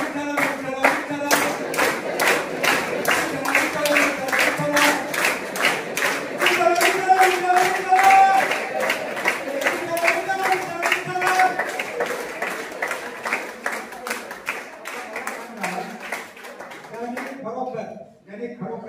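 An audience at a college gathering claps hard in a quick rhythmic beat, fairly loud and close, with voices chanting over the clapping until it fades near the end.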